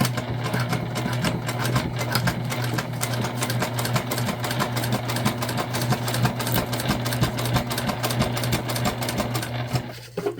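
A Juki sewing machine stitches the lining of a structured bag, its motor humming steadily with a fast, even needle rattle that runs loud and unbroken for the full length, cutting off near the end.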